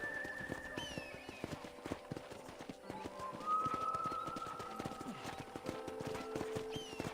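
Horse hooves clip-clop steadily at a walking pace in the video game Red Dead Redemption, close and even, under soft tonal music with a brief whinny-like tone.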